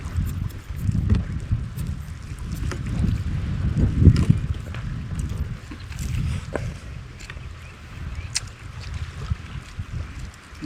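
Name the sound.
boat engine running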